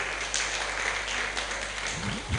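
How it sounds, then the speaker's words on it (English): Audience applause at a business bootcamp event, steady broadband clapping from a crowd filling the whole stretch at moderate loudness, with a brief voice near the end. "Let's clap for him, please"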